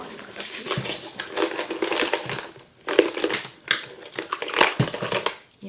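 Small metal theater game tokens are poured and shuffled by hand, giving irregular bursts of clinking and rattling with brief quiet gaps between handfuls.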